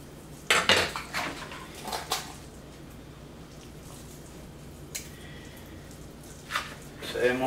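A knife and scissors being handled while a whole snapper is deboned, giving close metallic clinks and taps in short bursts with wet, squishy handling sounds between them, and no talking.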